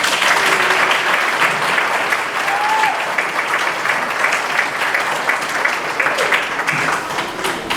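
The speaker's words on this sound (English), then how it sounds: "can we just give a round of applause to all of them?" A large audience at a graduation scholarship awards ceremony gives sustained, loud, dense applause for the graduates. The clapping stays even and continuous from start to finish.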